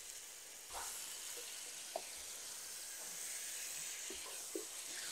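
About 1.5 kilograms of washed chicken hitting a hot pan for biryani, a sudden sizzle that settles into a steady, fairly quiet hiss with a few soft clinks of stirring.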